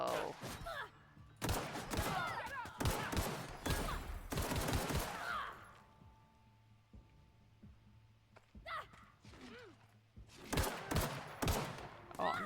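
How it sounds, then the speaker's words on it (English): Bursts of rapid gunfire fired from the hip in the video game The Outer Worlds, loud clusters of shots separated by quieter gaps, with in-game sounds and brief voice noises between volleys. "trying to shoot from the hip."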